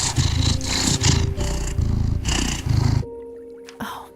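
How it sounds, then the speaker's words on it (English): A deep, rumbling purr from a cat in the video game Cabernet pulses in steady rhythmic bursts, loud and close, then drops away to leave a faint high tone and a brief soft rustle. "just listen to that purr"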